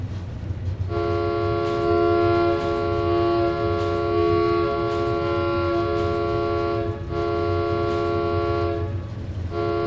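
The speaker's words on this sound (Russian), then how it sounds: "А это что? Гудок просто." A train horn from a Skyrim railroad mod sounds a loud, sustained chord-like blast that holds for several seconds, with brief dips and a rumbling engine bed underneath, close and without speech.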